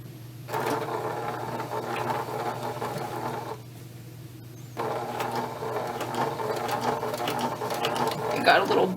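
Sewing machine stitches a fabric collar in fast, steady runs, pausing briefly in the middle before starting again, with speech over the mechanical whir.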